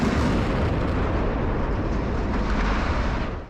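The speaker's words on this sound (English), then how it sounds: "The situation escalated with a series of transformer explosions, illuminating the night with bursts of light." Transformers explode at night during a pallet yard fire in Compton, a dense, heavy roar of blasts and rumbling bursts that fills the whole stretch before fading at the end.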